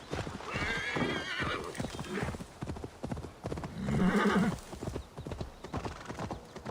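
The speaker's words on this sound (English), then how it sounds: "Wow, this horse runs out of stamina so quickly." A horse in Assassin's Creed Valhalla gallops with steady, rapid hoofbeats and lets out a loud whinny midway, while someone talks over the pounding steps.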